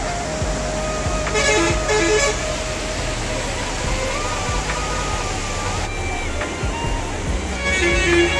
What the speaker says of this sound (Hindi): यहाँ पर ट्रैफिक भी अधिकतम